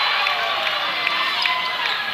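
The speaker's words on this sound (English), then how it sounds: "That gets the Middleton crowd fired up." A crowd at a high school girls' basketball state championship game in Middleton cheers loudly and steadily, a dense wash of voices with a commentator talking over it.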